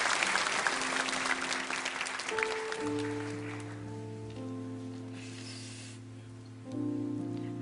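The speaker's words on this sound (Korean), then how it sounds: "우리 큰 박수로 맞아주시기 바랍니다" Church congregation applauding to welcome a speaker, loud clapping that fades away within about three seconds, leaving sustained organ or keyboard tones underneath.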